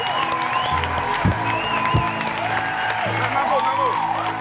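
Applause from a party audience greeting Marco on his birthday, continuous clapping over a steady hum of music and crowd noise, with voices talking through it.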